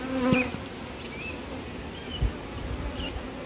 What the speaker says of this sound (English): Poor little bee.